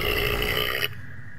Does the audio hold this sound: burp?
yes